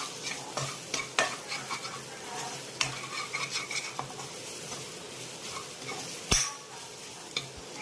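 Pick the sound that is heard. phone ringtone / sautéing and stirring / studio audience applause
sautéing and stirring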